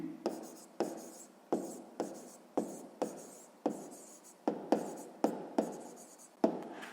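A pen writes by hand on paper while a sixth-grade maths exercise is worked out, making a steady run of about a dozen rhythmic scratching strokes, close and clear with no voices.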